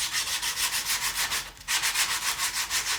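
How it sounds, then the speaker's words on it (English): Cracked paint on a model aircraft fuselage is rubbed down by hand with rhythmic back-and-forth abrasive strokes, close and fairly quiet, about a dozen even passes with a brief pause midway and no talking. "I need to rub that down to make sure I've got a good base on which to fill"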